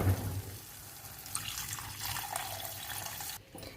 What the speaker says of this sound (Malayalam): ഇതിലേക്ക് ആവശ്യത്തിന് വെള്ളം ഒഴിച്ചു കൊടുക്കാം.